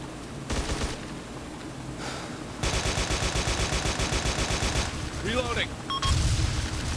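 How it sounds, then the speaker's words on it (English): Enemy machine gun fire in ARMA 2 on a beach assault, rapid sustained automatic bursts close and loud, with sharper shots and a heavier boom near the end. "Under fire. Enemy machine gun at 100 meters."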